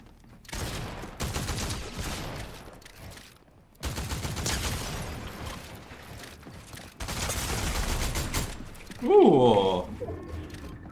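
Gunfire in the video game Fortnite comes in three long bursts of rapid automatic shots, loud and close with short pauses between them, followed by a brief chirping game effect.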